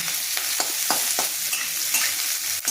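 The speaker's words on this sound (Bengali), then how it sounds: "পেঁয়াজটা আমার একটু ভালো ভাজা হলে আমি আলুটা দিয়ে দেব।" Onions frying in a pan for masoor dal with kolmi shak, a dense close sizzle broken by repeated stirring scrapes every half second or so, no talking.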